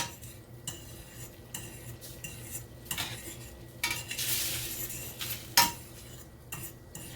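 Eggs being scrambled with bacon in a pan, a metal utensil scraping and clinking against the pan in irregular strokes over a soft background sizzle, one sharper clack near the end.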